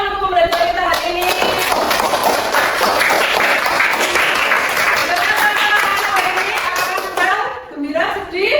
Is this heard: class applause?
yes